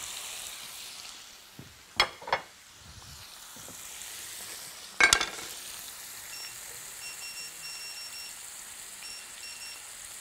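Shrimp fry with garlic in a hot pan, giving a soft, continuous sizzle. A few sharp utensil clicks and clanks come near the start and in the middle.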